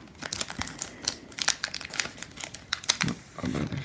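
A crinkly plastic wrapper on a Japanese trading card pack is opened up close, a burst of sharp crackles and crumpling rustles in an irregular rhythm, with faint talk.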